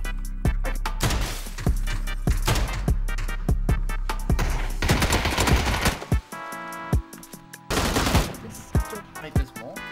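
Shotgun blasts and bursts of gunfire from a PUBG match ring out loud and close in rapid volleys, with crashing impacts between them and no clear talking.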